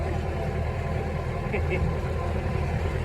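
A Massey tractor engine runs steadily at about 1200 RPM on two-thirds throttle while tedding hay, a continuous low rumbling drone that stays loud and even throughout.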